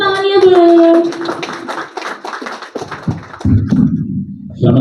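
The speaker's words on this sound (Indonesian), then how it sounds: "Tepuk tangannya belum?" A small audience at a book launch claps in scattered, uneven bursts after a voice trails off, with a few distinct hand claps and some tapping close to the microphone.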